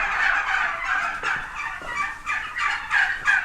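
Several free-range farm turkeys gobble close by in a rapid chorus of repeated warbling calls, overlapping and recurring in bursts throughout.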